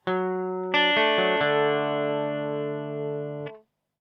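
Guitar picking verse bars, a downstroked fourth string and upstroked second and third strings, a few clear sustained notes ringing alone before stopping.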